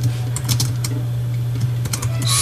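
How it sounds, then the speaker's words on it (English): Quick light keystrokes on a computer keyboard, clustered into short bursts of typing over a steady low electrical hum, close by with no one talking. "Okay, I can type that."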